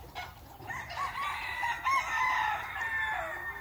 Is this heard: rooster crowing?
yes